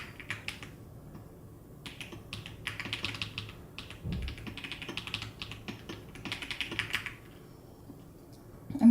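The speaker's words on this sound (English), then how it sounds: "I'm using a Keychron keyboard" Typing on a Keychron mechanical keyboard: bursts of quick clicky keystrokes with short pauses between runs, close and moderately quiet, with no talk.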